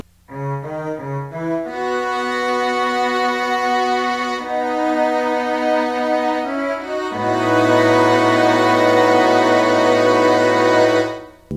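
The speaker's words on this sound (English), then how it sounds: "Another string section, but it acts as like a build-up to the final chorus" A string section in a song plays sustained chords that swell and layer, starting with short stepped notes and building into a fuller, louder sound before stopping.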